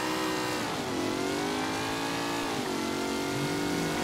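A powerful car in the video game Mafia 3 revs steadily, its engine note rising and dipping as it accelerates hard, loud and continuous with no voices.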